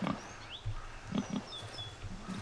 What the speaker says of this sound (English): Oh, you're a pig.